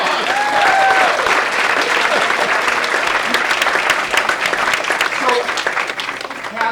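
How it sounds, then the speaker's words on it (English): A theater audience gives a sustained round of dense applause at a Citizen of the Year 2023 ceremony, loud and steady for the whole stretch, with a few faint voices mixed in. "Can we give them one more round of applause?"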